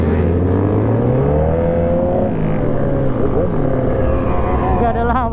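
A Kawasaki ZX10R 1000cc motorcycle engine revs loudly and steadily during a street ride, with rising and falling harmonic pitch sweeps and continuous roar throughout.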